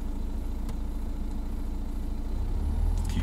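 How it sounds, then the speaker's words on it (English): A car engine idling steadily during a driving lesson, a low, constant hum and rumble that rises slightly near the end, close and moderately loud with no speech. "the correct amount of bite is the moment that that engine revs drop"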